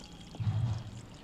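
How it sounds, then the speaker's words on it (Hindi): Water poured into the moist potting soil of a Begonia (Begum Bahar) plant being repotted, a short soft low gurgling pour that swells and fades over about half a second, fairly quiet and with no talking. "एक बार थोड़ा सा पानी और डालते हैं इसमें हम"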